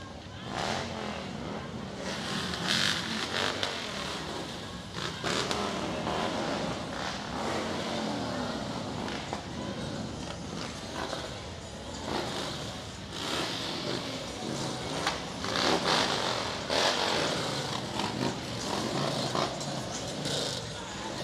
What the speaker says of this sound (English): There's no question you can hear them here on Pine, the Chosen Few Motorcycle Club.